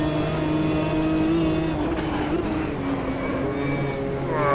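Race car engine note from the Automobilista 2 racing game at Old Hall, with tyre noise under it, holding a loud, steady drone that shifts pitch through downshifts and acceleration; no speech.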